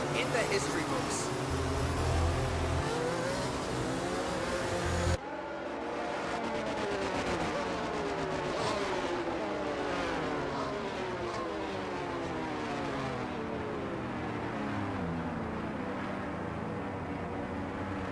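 Formula 1 cars in the F1 22 racing game running the formation lap, a steady droning engine note with rising and falling gear-change sweeps, continuous and fairly loud, under a spoken commentary.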